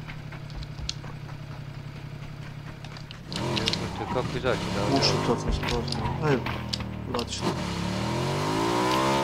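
Motorbike engine in the PUBG battle royale video game: a steady low hum gives way to louder, rising revving that carries on to the end, with several people talking over it.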